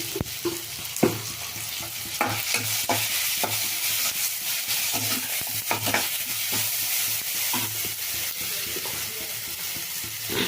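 Eggplant fries in a pan with vigorous stirring. A continuous, close sizzle is punctuated by repeated scraping and knocking strokes of the spatula, with no talking.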